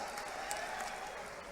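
A crowd at the Madhya Pradesh Chief Minister's public event in Shajapur claps faintly and from a distance, a steady, thin patter of applause.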